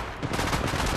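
Rapid gunfire from the Apex Legends Mobile battle royale shooter, a dense burst of shots packed tightly across one continuous loud second, with no voices over it.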